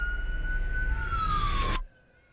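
A loud emergency siren wails in a steady tone that slowly falls in pitch, then cuts off abruptly, leaving near silence at the opening of a TV episode.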